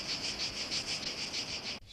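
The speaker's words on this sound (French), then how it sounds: "Les cigales m'applaudissent déjà." Cicadas chirp in a steady pulsing drone of rapid repeated buzzes, fairly close and even, cutting off abruptly near the end.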